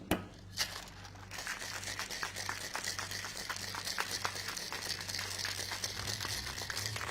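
Continuous rapid rattling and crunching of ice inside a cocktail shaker, steady and close, with a low hum underneath throughout.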